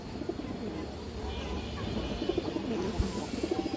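Pigeons being shown for sale coo softly in low, repeated, throaty bursts close by, with someone talking quietly over them.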